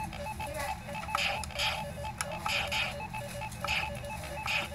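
Tiny battery-operated mini Centipede arcade box playing its game sounds: thin electronic bleeps and tonal chirps repeating in short bursts over a steady hiss, fairly close, with no talking.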